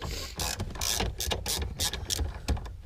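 A hand ratchet loosens 10 millimeter bolts from the dash assembly of a 1999 Subaru, giving a series of rapid close metallic clicking bursts in short repeated strokes, with no talking.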